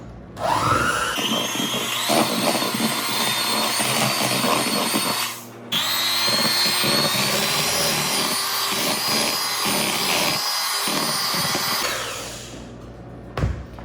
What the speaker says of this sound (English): So we're gonna mix it on up.